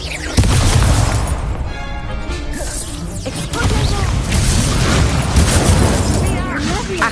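A Confringo blasting spell in Hogwarts Legacy sets off loud, booming, crashing explosions that roar continuously across the stretch, close and heavy, with a brief thinner whooshing spell burst early on and voices mixed in.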